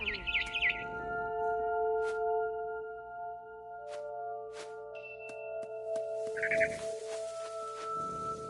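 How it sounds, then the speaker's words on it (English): A barn swallow chirps outside a window, with a series of clear, high tweets and pitched calls scattered across the stretch, fairly close and with no talking. "Then I heard chirping outside my window. It was a barn swallow going back to her nest."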